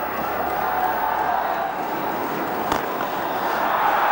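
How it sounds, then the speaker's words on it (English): A cricket crowd in a Pakistan vs India match gives a standing ovation, a broad steady roar of applause and cheering heard at a distance, with a commentator talking over it. "Standing ovation from the local boy from the crowd here."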